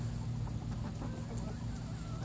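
A homestead rooster clucks close by in a low, rhythmic series of soft throaty calls, steady over a couple of seconds with no talking.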